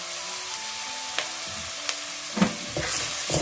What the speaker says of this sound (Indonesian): Lalu masukkan, tumis bareng ya sama bawang putihnya